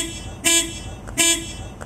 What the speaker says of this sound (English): She loves honking the horn.